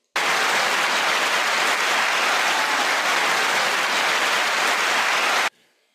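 A crowd breaks into steady, loud applause for about five seconds, dense clapping that cuts off abruptly into near silence.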